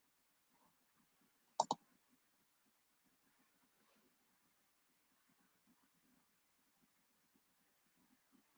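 One sharp, close computer mouse click, quickly doubled, stands out against near silence during a drawing session in Inkscape.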